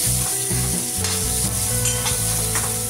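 Onion, tomato and peanuts fry in a pan for upma while a spoon stirs them, with a constant close sizzle broken by repeated scraping strokes and no voices.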